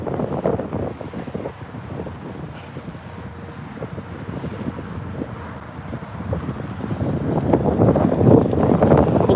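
Strong wind buffets a microphone outdoors in continuous rough gusts, growing louder toward the end, with no talking.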